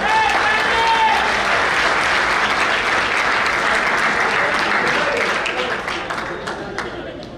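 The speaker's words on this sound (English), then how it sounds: "A big round of applause for Sandy." Banquet guests at an annual award night applaud a member, a full, loud burst of clapping from a crowd that holds steady and slowly tapers off, with a faint voice briefly audible early on.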